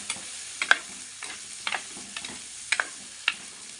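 Soaked chickpeas sauté in a pan for a tamarind curry. A soft frying hiss runs under sharp, irregular clicks and scrapes of a spoon stirring against the pan, close and alone.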